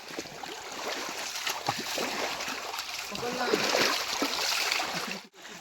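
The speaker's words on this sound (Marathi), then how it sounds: "कमलेचा पाय बघ कसं पडतात. डुबुक डुबुक पाणी नुसतं." Feet splashing in water while out catching crabs, with rushing, churning noise throughout, close by, while people talk over it.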